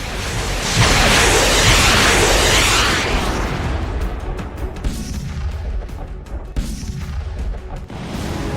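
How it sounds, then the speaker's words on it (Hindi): A heavy missile or rocket explosion roars out, loud and broadband, then fades into a rumbling, crackling aftermath of scattered distant blasts. "मिसाइलें और रॉकेट दनादन आग उगल रहे हैं।"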